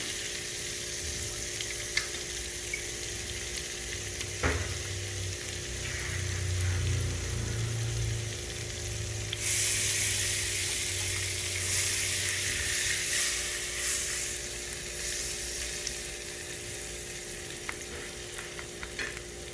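Butter with a thin drizzle of olive oil sizzling in a frying pan before potato rosti goes in, a long close crackling hiss that swells midway, with a couple of faint clinks.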